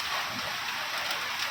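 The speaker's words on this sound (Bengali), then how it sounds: "বাইরে ঝমঝম করে বৃষ্টি পড়ছে" Heavy rain pours down outside at night during a thunderstorm, a steady, dense hiss that holds unbroken and fairly close throughout, with no voices.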